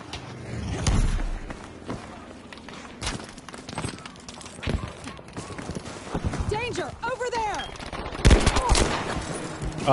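Scattered gunshots and bursts of gunfire crack out during a WWII video game beach assault, with loud sharp bangs near the start, middle and end over a busy battle din and voices shouting.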